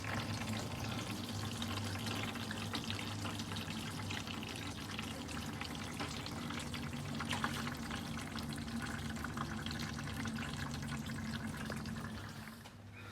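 Motor oil pours steadily from the drain plug hole under a Jeep into a pan, a continuous liquid splashing and gurgling that runs unbroken and fairly loud for the whole stretch, fading slightly at the end.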